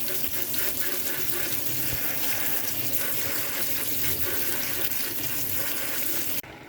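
Hot water from a kitchen tap pours steadily into a sink while food is rinsed under it, a continuous close splashing rush that cuts off abruptly near the end.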